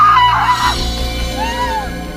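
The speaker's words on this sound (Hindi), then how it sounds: "तभी अचानक घर के बाहर से किसी औरत की चीखने की आवाज आई।" A woman screams outside a house, a loud sustained cry at the start that trails off amid a dramatic background score.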